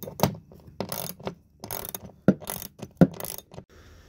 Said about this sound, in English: now I'm going to ratchet it in